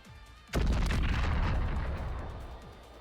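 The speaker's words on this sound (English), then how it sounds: "That wasn't an actual hydrogen bomb, was it?" A huge bomb blast in the video game NIKKE erupts suddenly after a moment of quiet, a deep booming explosion with a sharp crack that rumbles on and slowly fades over a few seconds.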